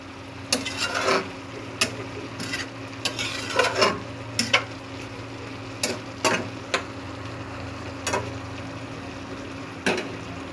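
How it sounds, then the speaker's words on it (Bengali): A taro and pui greens curry fries in a pan under a steady low sizzle, while a spoon stirs and scrapes through it in irregular, close knocks. "অনেকটা কষিয়ে কষিয়ে রান্না করতে হবে।"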